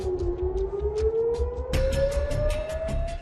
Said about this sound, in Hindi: सन्नाटे को चीरती सायरन की आवाज और थम जाता है सब कुछ।